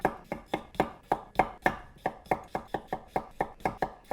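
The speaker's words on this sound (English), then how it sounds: "So I'm going to cut them into similar size pieces so they take kind of same" A kitchen knife chopping new potatoes into similar-sized pieces on a board, with steady, evenly spaced cuts, about fifteen sharp close knocks in four seconds and no talking.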